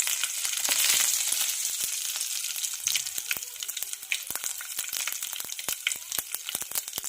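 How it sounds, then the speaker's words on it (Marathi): Cumin, mustard seeds and curry leaves temper in hot oil in a pan, a bright, steady sizzle with rapid scattered pops and crackles from the seeds, close up and with no talking. "इथे मी एक पॅन घेतलेला आहे आणि त्यामध्ये आपल्याला जिरं, मोहरी आणि कढीपत्ता घालायचा आहे आणि छान याचा तडका घालायचा आहे"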